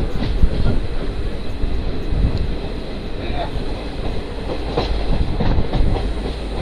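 Kosi Super Express passenger train, nearly empty, running on the Patna to Ranchi route, heard from inside as a steady broadband rumble with rhythmic clickety-clack of wheels over rail joints throughout.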